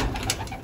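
Racing pigeons cooing in a loft, a brief, soft murmur of calls over a dense, noisy background.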